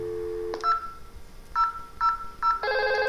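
Touch-tone keypad beeps as an office desk phone dials extension 2000, a short series of separate tones, then an electronic ring begins, clear and close with no voices.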